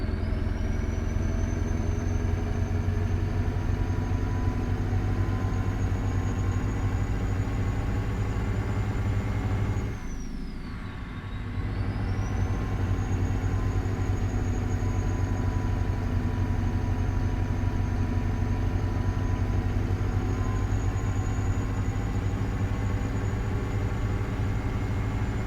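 A Freightliner Argosy truck engine in American Truck Simulator drones steadily at a constant loud pitch throughout, with one brief dip in revs in the middle before it settles back to the same steady hum.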